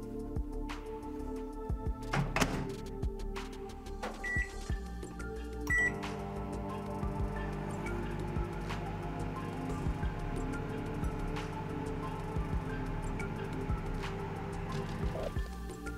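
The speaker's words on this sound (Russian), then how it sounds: "Просто ставим бойлы на 30-40 секунд в микроволновку." A microwave oven heats homemade carp boilies, humming steadily at low volume, with a couple of short electronic beeps early on and faint clicks.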